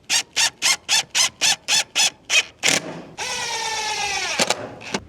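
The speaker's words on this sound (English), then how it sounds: "I'm just going to screw down to the base" Power screwdriver driving screws into the base of a chicken pen: a rapid series of about eleven short, evenly spaced bursts, then one longer sustained whine that trails off, loud and close.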